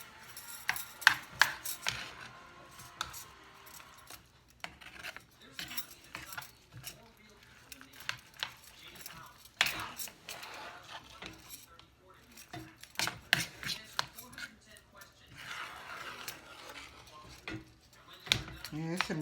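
Icing being stirred in a bowl, with irregular scraping and clinking of a utensil against the bowl spread through the stretch, and a voice speaking intermittently between strokes.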